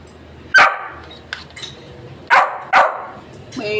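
A hungry dog barks in sharp, close bursts, several single barks spaced irregularly with quieter yips and a faint clink between them.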